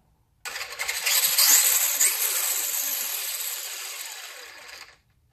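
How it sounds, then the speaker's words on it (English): A Traxxas Slash 2WD brushless motor, with a suspected transmission issue, spins up abruptly with a loud, bright mechanical whir. It holds steady for about four seconds, then slowly tapers and cuts off. "I'm wondering if because the brushless system instead of the brushed, it sounds different"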